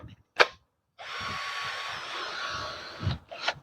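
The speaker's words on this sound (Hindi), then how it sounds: "ये ड्रिल मशीन है जो" A battery-powered cordless drill whirs in one sustained burst of about two seconds, close and fairly loud, with brief clicks and handling sounds before and after and no talk.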